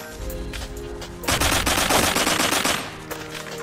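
In the video game Blockpost, automatic gunfire crackles in a dense burst that swells loudly in the middle and then trails off, with background game sounds throughout.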